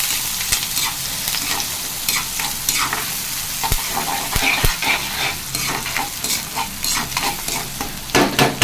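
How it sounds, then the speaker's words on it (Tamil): Onions and curry leaves sautéing in a pan for a pepper crab fry, a continuous crackling sizzle broken by frequent spoon scrapes and taps, close and fairly loud. "நல்லா வெங்காயம் வதங்கட்டும்."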